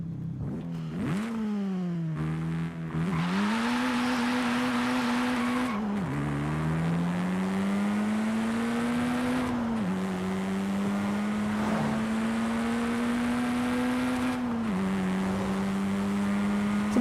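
Engine of a stock Honda hatchback driven in the racing game Forza Horizon 5, a steady loud drone that rises and falls with repeated gear changes and acceleration pulls, no talking over it.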